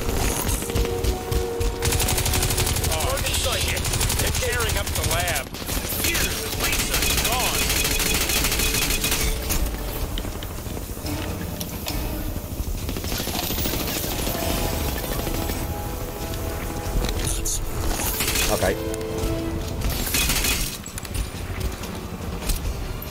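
Video game gunfire rattles in dense, continuous bursts of rapid shots throughout, loud and close, with people talking excitedly over it.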